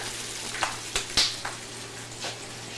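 Battered food fries in hot oil with a faint, steady sizzle, broken by a few soft clicks and pops; no one speaks.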